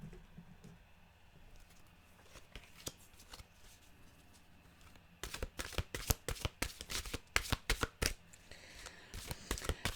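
A deck of mantra cards being shuffled close by, soft riffling at first, then a dense burst of sharp, rapid card flicks in the second half, quiet and without talk.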